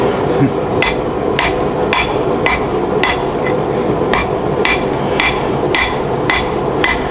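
A spatula being forged on an anvil: sharp metallic hammer strikes ring out roughly every half second, about a dozen in steady rhythm, loud and close over a continuous background hum, with no talking.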